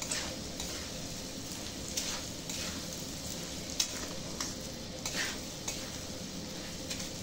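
Gobindobhog rice frying in homemade ghee gives a soft, steady crackle, with occasional spoon scrapes and light clinks against the pan, fairly quiet and free of talk.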